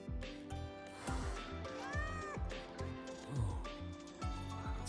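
Frightened cat in a video game giving a few plaintive meows over busy background game music and sound effects, moderately clear and without speech.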